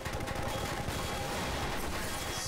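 Rapid gunfire from the Half-Life 2 video game crackles in dense, overlapping bursts, loud and continuous across the whole stretch, with a sharp broadband rattle and no clear pauses.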